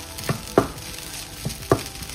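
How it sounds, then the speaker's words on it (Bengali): Flattened rice poha frying in a pan over a low flame, a soft steady sizzle broken by a few sharp scraping stirs of a spoon at irregular intervals, close and moderately loud, with no talking. "একটু লো আঁচ করে জিনিসটাকে ভাজা ভাজা হতে দাও।"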